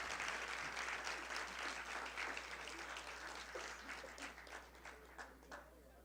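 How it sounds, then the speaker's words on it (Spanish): An audience at a general assembly claps together in warm, sustained applause, a dense steady patter that gradually thins and softens toward the end. "Un aplauso para él."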